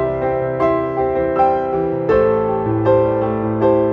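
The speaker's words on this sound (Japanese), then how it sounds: "通常のコンサートピアノ、こんな音です。" Concert piano preset of the UJAM Vogue virtual instrument playing a steady chordal accompaniment, repeated struck chords with sustained ringing harmonics, clear and upfront with no voices.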